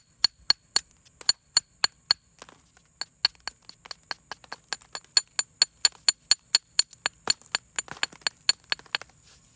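Direct percussion flint knapping on a Flint Ridge flint slab produces a long series of sharp, ringing clinks, each strike distinct and close, in an irregular rhythm of quick blows and short pauses.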